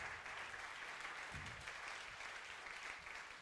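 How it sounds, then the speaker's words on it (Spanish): A church congregation applauds during a sermon, a steady, faint wash of hand clapping heard from a distance throughout. "Denle un aplauso al Señor."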